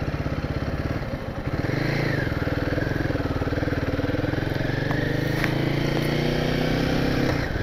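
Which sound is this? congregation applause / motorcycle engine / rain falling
motorcycle engine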